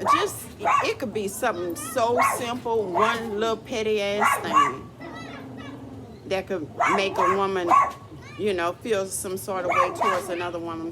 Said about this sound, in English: That's my dog acting a fool.